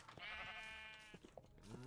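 Sheep bleat on a Minecraft sheep farm: one long, wavering, fairly quiet bleat, then a few short, softer calls, with no talk.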